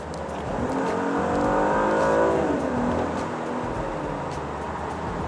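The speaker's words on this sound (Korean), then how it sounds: "여기서 급가속을 해볼게요" Genesis G80 3.5T sport package sedan accelerating hard from about 80 km/h, its engine note climbing in a steady loud rising whine of revs and road roar, with no one speaking over it.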